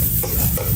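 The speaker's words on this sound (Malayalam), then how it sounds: "അപ്പോൾ ഇതെല്ലാം കൂടി ഇട്ടിട്ട് ഇനിയിപ്പോൾ നമുക്കൊന്ന് ഇളക്കിയെടുക്കാം" A spoon works through chicken biryani masala with black pepper in a hot pan, a short dense scrape and sizzle, close and loud, with no voices.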